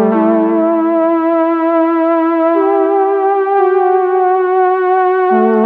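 Sustained synthesizer notes with a reverb effect hold and glide between pitches, smooth and washy, with the sound lingering and blending from one note into the next.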